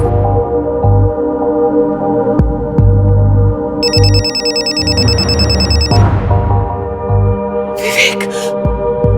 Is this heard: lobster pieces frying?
no